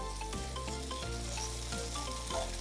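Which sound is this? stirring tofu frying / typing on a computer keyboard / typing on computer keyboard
stirring tofu frying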